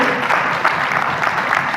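Steady, dense clapping from an audience at a business meeting in a hotel, loud and continuous throughout with no voices over it.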